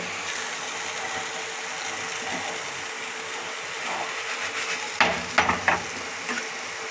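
Banana flower dhoka pieces fry in oil in a pan with a steady hiss throughout, then a few sharp scraping clatters near the end as the pieces are turned.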